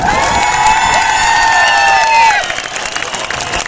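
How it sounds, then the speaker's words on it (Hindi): Rally crowd in Doda cheering and clapping loudly for Arvind Kejriwal, with shrill whistles and whoops over the applause for about two seconds before the noise eases into lighter clapping. "उनके लिए जोरदार ताली बजा दें"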